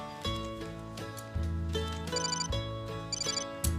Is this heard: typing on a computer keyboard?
no